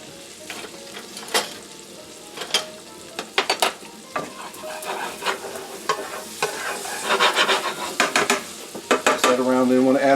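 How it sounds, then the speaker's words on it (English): Finely minced garlic stirred into shallots cooking in a pan, with a steady sizzle under scraping and clinking stirring strokes that grow louder and busier toward the end. "Now I'm going to add a little bit of garlic and a couple of cloves of finely minced up garlic here."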